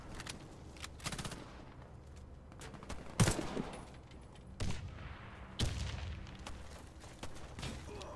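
Gunfire in the first-person shooter game Warface, with repeated bursts of automatic fire and single shots scattered irregularly across the clip, punchy against a low background rumble.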